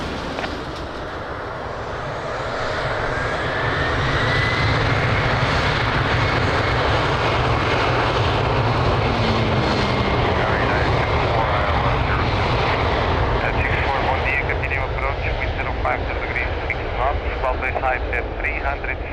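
A passenger jet taking off or landing at Lisbon Airport gives a loud, sustained engine roar that swells after the first few seconds and holds steady, with radio voices and chatter over it.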